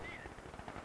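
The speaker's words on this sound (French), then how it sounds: "Ça fait de la mitrailleuse sur le champ de bataille" Machine gun fire rattling across a battlefield in a D-Day strategy video game, a quick faint burst of rapid shots under a voice.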